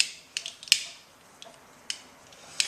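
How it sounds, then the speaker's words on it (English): Screws being tightened on an adjustable hair clipper: a few short, sharp metallic clicks and ticks spaced irregularly over quiet, close-up and isolated. "screwing in only to where it stops. Don't over tighten the screws."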